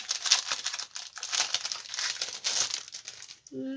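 Continuous dry crinkling and crumpling of a paper napkin during napkin decoupage of a very large egg, close and fairly steady, ending with a brief tonal sound.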